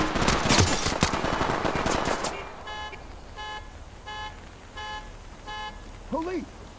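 Gunfire in Ready or Not, a tactical police shooter, opening with a loud dense rattle of rapid shots, then quieter evenly spaced bursts further off, with a voice calling out briefly near the end.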